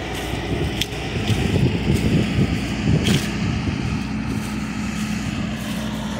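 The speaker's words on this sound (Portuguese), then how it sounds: "Se liga na turbina da máquina" A small wheel loader's turbocharged engine runs steadily outdoors, a loud continuous rumble and whine with a faint rhythmic chug underneath and no talking.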